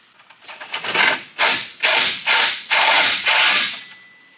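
Bolt being tightened on a Jeep WJ engine mount during a 4.0 engine swap, giving about six loud, close ratcheting bursts in a steady rhythm with short pauses between strokes.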